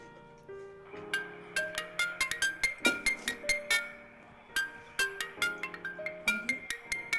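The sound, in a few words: mobile phone ringtone, incoming call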